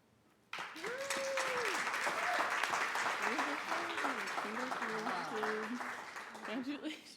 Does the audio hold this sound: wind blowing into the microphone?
no